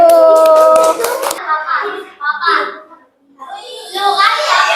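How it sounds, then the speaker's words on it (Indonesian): Grade 4 elementary pupils clap for a classmates' group in a classroom, a brief burst of sharp hand claps at the start followed by children's voices talking and calling out. "Tepuk tangan untuk kelompok 1"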